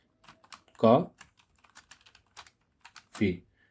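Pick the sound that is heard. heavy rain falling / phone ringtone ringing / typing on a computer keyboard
typing on a computer keyboard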